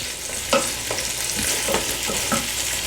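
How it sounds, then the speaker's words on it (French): Cassava leaves cooking with smoked fish in a pot, giving a steady close sizzle and bubbling with a few distinct clinks or stirring knocks spaced through it, no voices. "on va laisser mijoter pendant environ 5-10 minutes"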